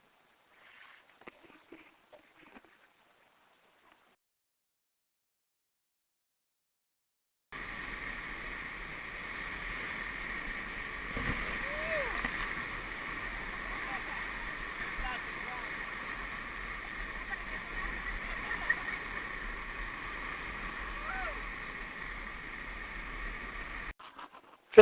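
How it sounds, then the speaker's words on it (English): A raft runs the lower end of a Grand Canyon rapid with its tail waves. After a few seconds of near silence, a steady, fairly loud rushing roar of whitewater begins and continues unbroken to the end. "Now we're coming down towards the bottom, lower end of the rapid,"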